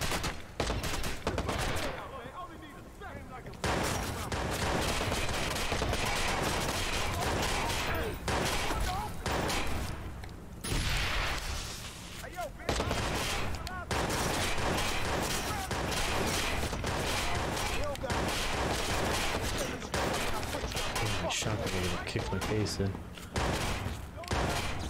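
Bursts of MP5 submachine gun fire in Cyberpunk 2077 crackle in rapid sustained volleys with brief pauses. A voice talks over the shooting.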